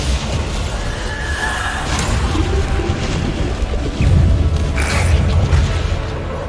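A Bombarda spell explosion in Hogwarts Legacy gives a deep, rumbling boom amid ongoing whooshing combat effects, with a heavier low-end blast swelling about two-thirds through.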